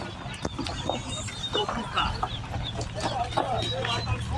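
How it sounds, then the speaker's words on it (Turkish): Village chickens and roosters cluck and squawk at an outdoor poultry market in Çubuk, several birds calling at once with scattered sharp sounds and background murmur. "Evet burada da köy tavuğu ve horozları var."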